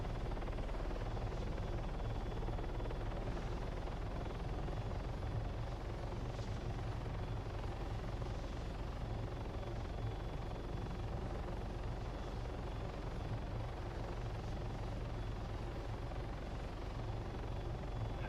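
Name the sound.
helicopter flying in video game DayZ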